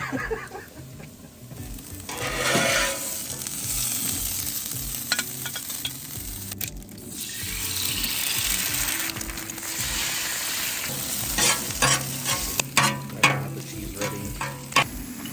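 Food sizzling on a Blackstone griddle while a metal scraper works the surface, giving steady frying hiss with intermittent scraping and clacking strokes, close up.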